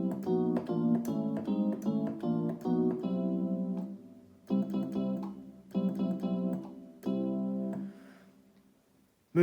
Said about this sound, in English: in pressing the foot switch, when it's set to glide, it will sound like this.